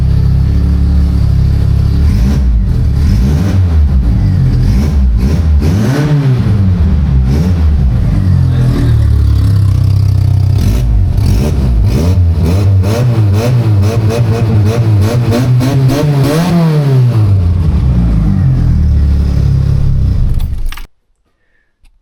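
A VW Golf Mk2 fitted with a sport flap exhaust revs hard and close, its engine note climbing and falling in repeated throttle blips and sweeps for about twenty seconds before cutting off abruptly.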